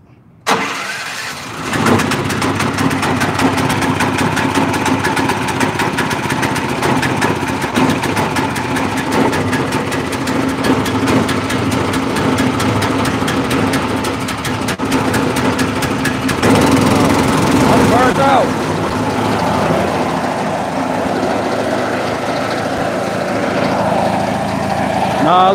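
A small engine choked and pulled to life, then holding a loud, steady drone at mid throttle that wavers slightly partway through, close by and continuous, with a few faint words underneath.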